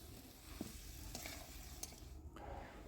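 Radish curry being stirred in a pan, a soft continuous sizzle with occasional scraping strokes of the spoon, quiet and close with no talking.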